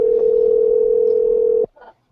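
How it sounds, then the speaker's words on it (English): A loud, steady single telephone tone drones on a call for about a second and a half, then cuts off abruptly, leaving a brief faint murmur. "can y'all hear that ringing?"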